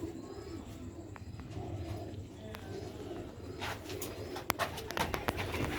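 Sialkoti Aliwali pigeons coo softly at a moderate distance over a low background rumble, with a few sharper chirps and taps toward the end.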